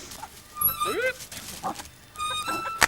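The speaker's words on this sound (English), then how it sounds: "Jumpy dog." An excited, jumpy dog gives short yips and whimpers in brief bursts, close by, with a voice talking around it.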